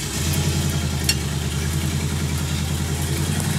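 A 1972 Oldsmobile Cutlass V8 rumbling steadily in gear as it drives slowly around a yard, a loud, even, low engine drone close by with no voices.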